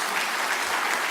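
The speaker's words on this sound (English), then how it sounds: "Yeah, you should clap, yeah." An audience at a human rights awards ceremony claps in a brief, dense, steady burst of applause.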